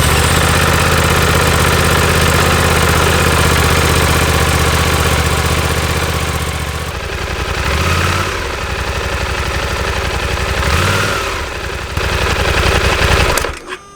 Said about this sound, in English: Start the engine and let it run on idle for 5 minutes.